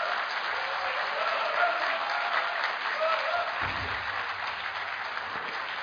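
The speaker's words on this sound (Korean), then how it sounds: "박수 부탁드립니다." Guests applaud the party leadership candidates at the close of a panel discussion, a steady, moderately loud wash of clapping from a room full of people that carries on without a break, with a brief low thump partway through.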